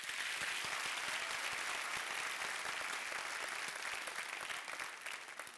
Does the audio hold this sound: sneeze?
no